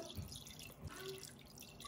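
Water is poured into an Instant Pot pressure cooker, faint close dripping and splashing with a couple of soft drops, quiet and without talk.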